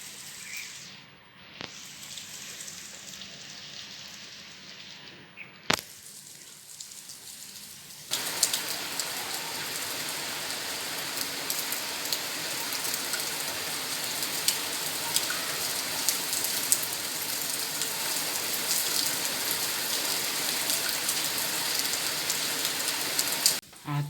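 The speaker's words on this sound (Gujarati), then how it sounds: "અત્યારે બી વરસાદ જ પડે છે" Steady rain falls outside during an ordinary early-season shower, a dense, even hiss of drops on surfaces that starts softer and then swells into a continuous heavier patter, heard up close with no talking.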